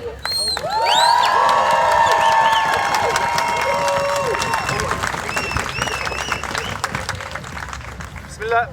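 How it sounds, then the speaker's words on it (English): Crowd at a Gaza solidarity encampment on the University of Wisconsin–Milwaukee campus bursts into loud applause and cheering for a Muslim community speaker, with shouts and voices over steady clapping that slowly thins. "Please give a big round of applause to our community."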